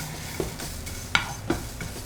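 Ginger toasting with cloves in a pot, a soft sizzle under occasional stirring scrapes and light clinks, close and moderately loud.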